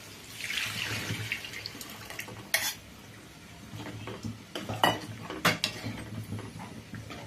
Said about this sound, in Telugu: ఇప్పుడు చింతపండు రసాన్ని వేసుకుందాం.